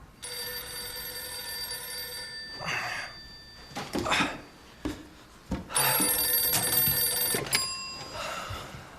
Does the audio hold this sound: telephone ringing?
yes